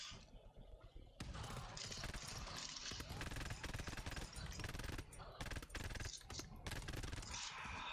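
Enemy gunfire in the survival horror shooter GTFO, a dense, loud barrage of rapid automatic shots with bursts and brief pauses, and a voice talking over the shooting.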